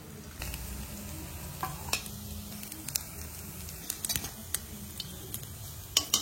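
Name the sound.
bora fritters frying in oil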